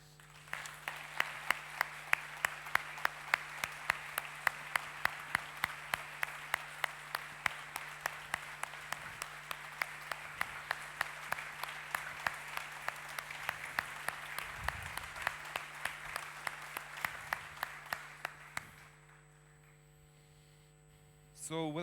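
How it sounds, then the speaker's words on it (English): An audience at a conference keynote applauds steadily for around eighteen seconds over a constant electrical hum, and the clapping then stops, leaving only the hum. "please give them a warm applause."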